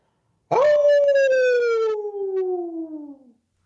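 A voice imitates a hound howl, one long sustained tone that rises then slowly falls over about three seconds, loud and close, with no other sound around it.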